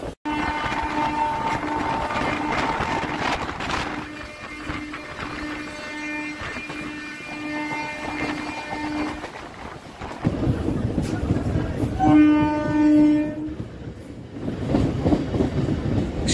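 Howrah–Haldia galloping local train rolling along with a steady, loud rumble and rail clatter heard from on board, and a sustained horn blast sounding near the end.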